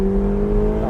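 A Lamborghini Huracan on track, its engine holding a steady loud drone under throttle for a brief moment, close and continuous, with no voices.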